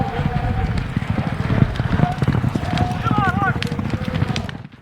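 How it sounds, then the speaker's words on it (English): Horses gallop around a half-mile track during an Indian Relay race in the American West, with rapid, driving hoofbeats mixed into loud crowd noise and voices throughout. "These horses are able to run like you wouldn't believe."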